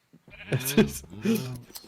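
Sheep bleating in Minecraft: two drawn-out, wavering bleats close up, one after another, with no other sound between them.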